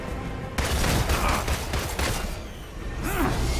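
Dense, continuous gunfire in a Marvel's Avengers boss fight, a sustained barrage of loud shots with booming low end running through the clip, briefly easing before building again.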